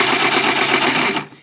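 A Dynamic sewing machine fitted with a smaller replacement motor stitches in a fast, even rhythm of repeated needle strokes, close and loud, before winding down and stopping just after one second.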